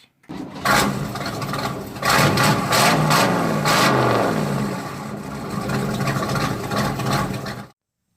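A small engine fitted with a 62-year-old carburetor runs loudly and close up, with a rough, buzzing roar that rises and falls as it revs, then cuts off abruptly.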